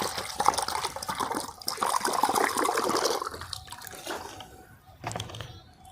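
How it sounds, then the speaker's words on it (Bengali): Drinking water, 500 ml, is poured into a mug, giving a close, continuous splashing and trickling fill that fades off after a few seconds, followed by a brief final splash. "একটি মগ নিন, তাতে আপনি নিন 500 ml পানীয় জল।"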